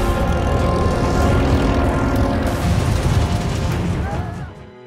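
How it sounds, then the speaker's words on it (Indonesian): A loud, dense roar of propeller aircraft engines mixed with booming blasts fills the scene, Dutch warplanes attacking, before fading out at the end. "tiba-tiba Sigit dikejutkan oleh munculnya pesawat Congor Merah milik Belanda yang langsung menyerangnya"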